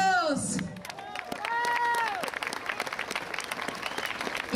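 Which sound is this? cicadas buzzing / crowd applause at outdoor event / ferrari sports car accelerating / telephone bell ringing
crowd applause at outdoor event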